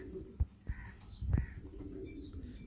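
A few faint, low cooing calls come from Imaamdeen pigeons nearby, with soft chirps and light rustling in a quiet loft and no talk.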